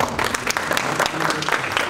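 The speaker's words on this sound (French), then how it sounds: "Alors, applaudissons pour le Premier ministre." Audience at a Malian students' cultural day at Paris 8 applauding the Prime Minister, with dense, steady clapping at close range that keeps an even level throughout.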